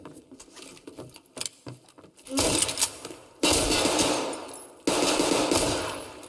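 Gunfire in Escape From Tarkov: scattered single shots at first, then loud sustained automatic bursts in three long stretches, with faint voices of players underneath.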